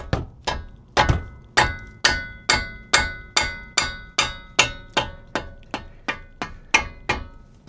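Sharp metallic taps of a hammer on a socket wrench fitted to 17 mm brake caliper bolts on a 1998-2002 Toyota Corolla, about fifteen evenly spaced ringing strikes, close and clear.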